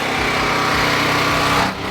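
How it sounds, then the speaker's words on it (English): A portable generator runs on a farm, supplying power for charging batteries, power tools and a welder. Its steady loud engine drone with a rapid throbbing pulse fills the whole stretch up close, with no voices. "Don't mind the generator, I know it's kind of noisy"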